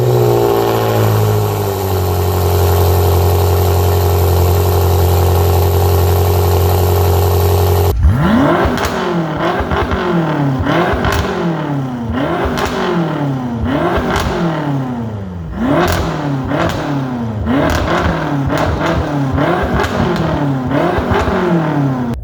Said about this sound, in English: I'll put a little clip in right now of the exhaust, how it sounds